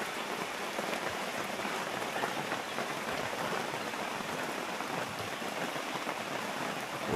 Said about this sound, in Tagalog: Sinusundan na naman tayo ng ulan.